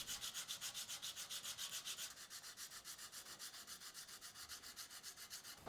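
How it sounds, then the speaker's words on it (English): Sandpaper is worked along the edge of a folded axe in quick, even back-and-forth strokes, a rhythmic rasping that is close and steady and grows slightly softer partway through, with no one speaking. "I then switch to sandpaper to make the edge even finer."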